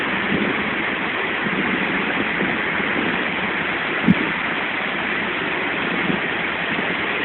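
Steady broadband roar of the Cachoeira do Evilson waterfall in Taquaruçu, Palmas, constant and close with no voices over it and only one brief knock partway through.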